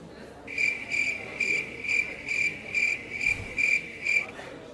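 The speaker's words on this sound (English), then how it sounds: "I much prefer the sound of crickets to chat." Crickets chirp in a steady, evenly spaced pulsing rhythm, about eight clear trills over a few seconds, fairly close and loud against a quiet background hiss.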